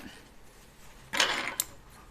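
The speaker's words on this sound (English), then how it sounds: "And now I'm going to cut one of my seam allowances." Scissors trim a fabric seam allowance in a quiet room: one short, crisp snipping burst, then a brief second snip, close and soft.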